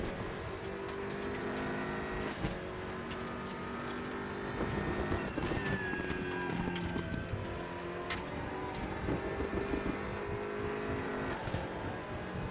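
A GT3 race car in the RaceRoom racing game at Spa accelerates out of a corner, engine rising through the revs with gear changes, tyres and other car noise filling a continuous loud roar.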